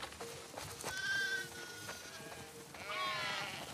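Sheep bleat in a farmyard while being herded toward the barn, several wavering calls rising over a low background, one in the middle and a longer bleat near the end.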